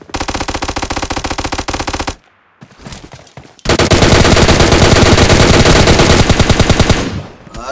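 Rapid automatic gunfire in the video game PUBG Lite: a long loud burst, a short pause with softer shots, then a second sustained burst that fades out at the end.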